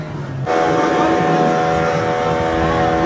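A boat engine starts up and settles into a loud, steady drone as the vessel pulls away off a Mauritius beach, with a constant low hum throughout.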